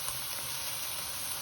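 An egg fries in hot oil in a pan for Chinese-takeaway-style vegetable Singapore fried rice, giving a steady, close, loud sizzle that runs evenly throughout with no talking.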